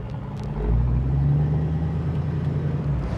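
A 1971 Ford Mustang convertible drives off, its engine rising to a low steady rumble heard from inside the car.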